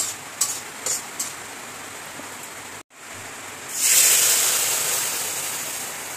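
Milk poured into a hot pan of cashews and raisins fried in ghee, a soft quiet room tone that gives way to a loud hissing sizzle and spray which slowly fades as the pan settles.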